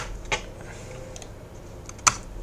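Computer keyboard keys clack during an Ubuntu 16.04 install on a virtual machine, two distinct sharp presses with a few faint taps between, close and quiet against a low room hum.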